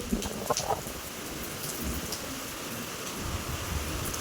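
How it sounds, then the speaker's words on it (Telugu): Rain falls steadily in a village, a soft continuous patter on surfaces with a faint distant rumble underneath, fairly quiet and with no talk. "ఈ టైంలో అయితే వర్షం స్టార్ట్ అయింది"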